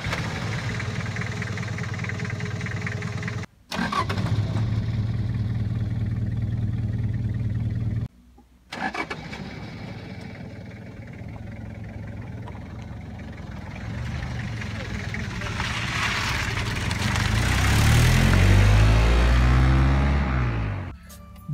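A 1993 Toyota Hiace van with high mileage running its engine, a steady low idle hum that briefly cuts out twice, then rises in a louder, rougher surge near the end.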